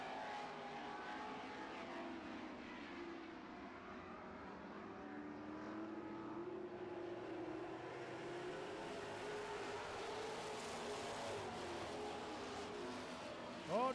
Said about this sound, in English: Top 6 cars setting quite a pace out here.